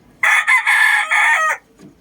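An eight-month-old bulik-line gamecock rooster crows once, a single loud, close call lasting just over a second with a brief break partway through, then quiet.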